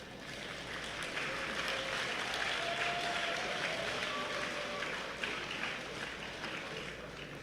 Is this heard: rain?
no